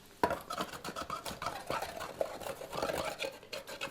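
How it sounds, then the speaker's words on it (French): A small brush working degreaser over lead came before tin soldering in a stained-glass workshop, giving quick, soft scratchy bristle strokes in a close, irregular rhythm, fairly quiet, with no talking. "on met un dégraissant. Voilà, ce que je fais avec un pinceau"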